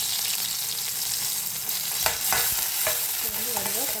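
Cumin seeds, onion, ginger and curry leaves sizzle loudly in hot oil in a pan as a spoon stirs them, with a steady crackling hiss and a few scraping strokes up close.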